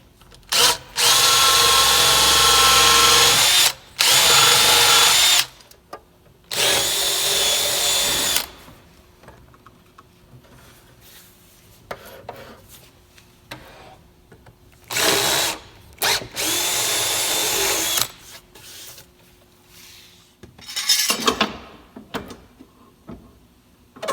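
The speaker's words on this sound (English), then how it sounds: "Now I'm going to come in through with the countersink, and then I'll ream it out with a 3/16" A power drill countersinks a hole and then reams it to 3/16 inch in several loud, close bursts of whirring that start and stop. The runs shorten toward the end, with quiet handling between them.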